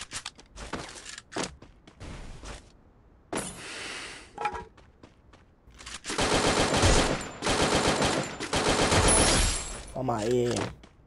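Video game gunfire in Free Fire: bursts of rapid automatic fire crackle in short and long volleys, with single shots between, loud and close, alongside a brief voice near the end.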